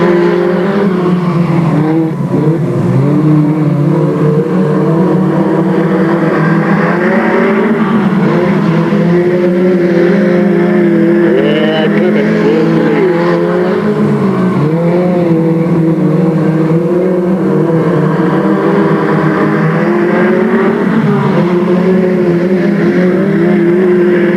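Race cars at Delta Speedway roar together off a green flag start, a loud continuous wall of revving engines with rising and falling pitch as they accelerate and pass.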